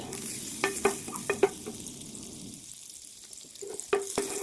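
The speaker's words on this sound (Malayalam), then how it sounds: "ഒരു പാൻ ഒരു കഷ്ണം ബട്ടർ ഇട്ട് കൊടുക്കാനുണ്ട് അതൊന്ന് ആവട്ടെ" A piece of butter melting in a pan, a soft, quiet sizzle with a few sharp clinks and scrapes near the start and end and a brief lull in the middle, no voices.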